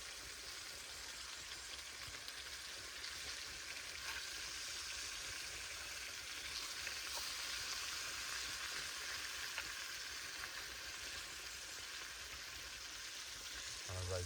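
Bacon fries in a pan at a hammock camp, giving a steady, faint, continuous sizzle and crackle throughout with no talk over it.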